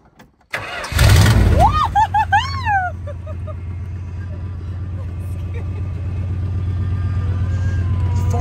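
A 440 Dodge Cobra camper's V8 cranks with the gas pumped, catches with a loud burst, then settles into a steady deep rumbling idle that keeps going to the end. Voices briefly overlap the starting.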